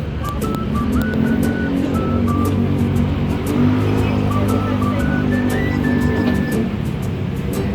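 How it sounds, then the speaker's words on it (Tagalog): A Carousel bus pulls in along EDSA among steady road traffic, its engine a rumbling drone with tonal whine. Vehicles hum around it and brief horn-like tones sound over the continuous traffic noise. "Ayan na yung bus."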